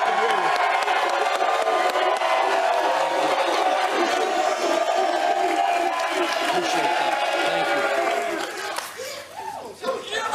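A studio audience at a sports talk show cheers and whoops loudly and continuously, a dense roar of many voices that thins slightly near the end.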